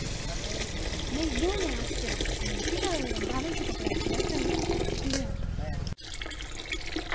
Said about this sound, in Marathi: सर्व मसाल्यांना मस्तपैकी तेल सुटलेलं आहे। त्यात पाणी टाकून घेऊया।